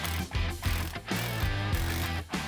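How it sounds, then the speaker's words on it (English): Ratchet tightening the bottom strut bolts on a Ford Bronco during a Superlift install: quick repeated clicking strokes in short bursts with brief pauses, close and fairly loud, with no voices. "Now we can go ahead and tighten up our two bottom strut bolts."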